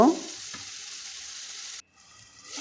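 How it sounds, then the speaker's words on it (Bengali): Potatoes and green tomatoes stir-fry in spices in a pan with a steady close sizzle and a scrape at the start, then the frying suddenly drops away to a softer hiss. "আলু এখন নেড়ে চেড়ে কিছুক্ষণ মশলার মধ্যে সবজিটাকে কষিয়ে নিব"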